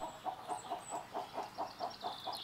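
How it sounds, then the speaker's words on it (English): Farm chickens cluck in a steady, evenly spaced series of soft calls, about ten in a row, fairly quiet and close, with a few faint high chirps in the background and no talking. "The family still keeps some chickens."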